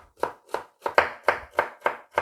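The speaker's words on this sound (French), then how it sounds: "On va couper aussi carottes et céleri, mais de ça, il faut faire une brunoise, de tout petits carrés." A knife chops carrots and celery into tiny brunoise cubes on a cutting board, about eight crisp, evenly spaced strikes in a steady rhythm, close and clear with no talking.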